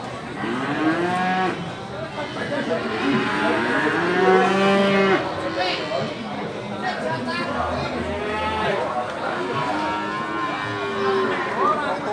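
Large Limousin cattle low repeatedly at a livestock market in Pacitan, overlapping moos from several animals, fairly close, against crowd chatter and market bustle.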